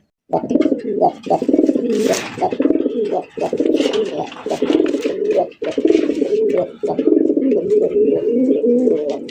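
Native Bangladeshi pigeon of an old breed cooing repeatedly and loudly up close, a steady run of throaty rolling coos with brief pauses, a faint voice briefly in the background.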